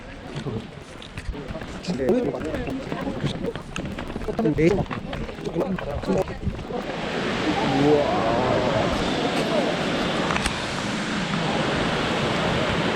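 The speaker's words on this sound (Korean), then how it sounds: "와 이게 흰수염 폭포네" Shirahige waterfall near Biei, Hokkaido, roars as a steady broadband rush of falling water, loud and close, swelling and thickening partway through, with people talking over it early on.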